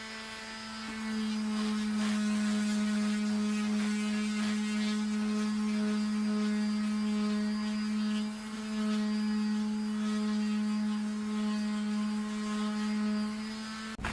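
A Ryobi squared orbital sander runs continuously, a loud steady motor whine and buzz with a brief dip midway, close by and with no talking.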